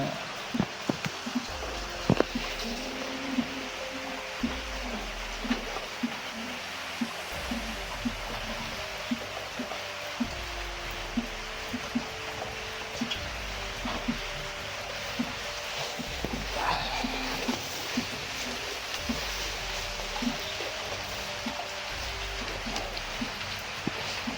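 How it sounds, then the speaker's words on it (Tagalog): Steady rainfall outdoors in the Philippines, a dense continuous hiss with scattered louder drops and patters on surfaces, lasting throughout with faint background activity and no clear speech. "Oo, kanina pa ang ulan."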